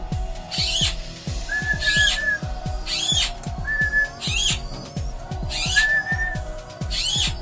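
Whistled calls aimed at a pet zebra dove, several short rising whistles repeating over steady rhythmic background clicks and knocks, fairly close and clear.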